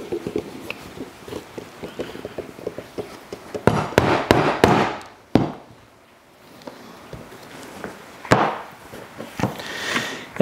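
Hole being punched in a leather dog leash, a series of sharp, close hammer strikes on a punch, first light rapid taps, then several heavy blows in a cluster, a pause, and a few more isolated impacts.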